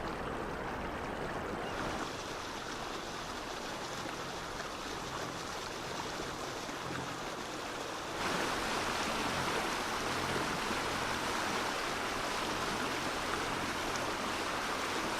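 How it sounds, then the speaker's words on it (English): Continuous rushing water from a glacier-fed waterfall and stream among high mountains, a steady broadband roar heard from a distance that swells noticeably louder partway through, with no talking. "Look at that waterfall."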